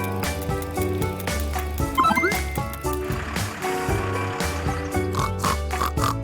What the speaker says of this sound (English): Who is that oinking? Right you are! It's a pig!